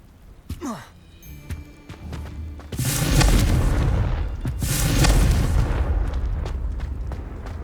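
Two heavy Confringo spell blasts from Hogwarts Legacy boom in quick succession, each a loud, roaring burst that lingers and rumbles over game sound, after a brief whooshing cast.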